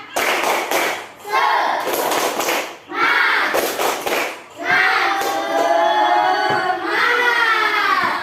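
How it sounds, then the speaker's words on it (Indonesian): A classroom of students performs a rhythmic spirit clap in unison, with sharp bursts of hand claps and group chanting repeating in several rounds. "Sekali lagi, nggak serentak. Tepuk semangat."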